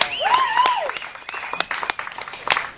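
A theatre audience applauds the builders who worked on the roof, with dense clapping plus bright rising whistles and cheers at the start, all fairly loud and close.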